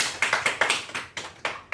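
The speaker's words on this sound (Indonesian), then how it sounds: "kasih tepuk tangan buat Wisnu." A short burst of classroom applause for a student, a handful of sharp separate claps in a quick, slightly uneven rhythm, close and fairly loud, with no voices.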